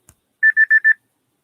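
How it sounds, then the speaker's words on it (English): An alarm going off: four short, evenly spaced electronic beeps in a quick run, fairly loud and close, in an otherwise quiet room with no talking. "that's my alarm."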